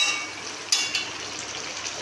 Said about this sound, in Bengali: খুব সুন্দর ফুটছে।